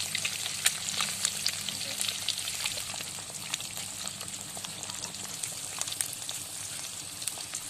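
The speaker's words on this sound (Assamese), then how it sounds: "এতিয়া ডিমকেইটা বাকলি গুচাই অলপ ফ্ৰাই কৰি ল'ম।" Boiled, peeled eggs fry in a pan with turmeric and salt, a continuous close sizzle with small crackling pops throughout, steady and unbroken.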